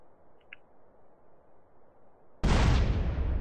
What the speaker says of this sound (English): Hear an explosion in the distance.